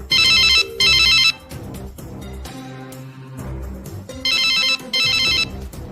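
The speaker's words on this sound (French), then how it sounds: "Paniqué, il prend son téléphone et essaie de joindre Flora, sans succès." Telephone ringing on an unanswered call, with loud repeated electronic ring bursts in pairs at the start and end. In the middle, low music or ambient sound fills the pause between rings.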